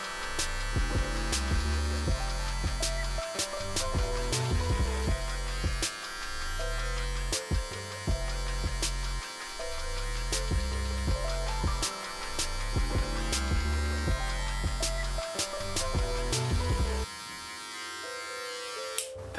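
Electric hair clippers with the guard closed cut hair while a person trims their own taper, giving a steady, close buzz that runs almost continuously under background music.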